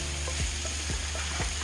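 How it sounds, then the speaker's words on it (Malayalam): Onions and green chillies frying in oil for chicken dum biryani, a steady close sizzle with a few soft swishes as the pan is stirred. "ചിക്കനിലേക്കുള്ള ഉള്ളി വഴറ്റണം, നല്ല സോഫ്റ്റായിട്ട് വരണം"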